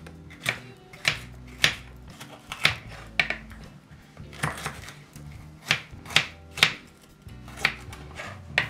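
A knife chops a green bell pepper on a cutting board in a rhythmic run of about fifteen sharp, close taps that come in quick clusters, each one distinct and loud against a quiet kitchen background.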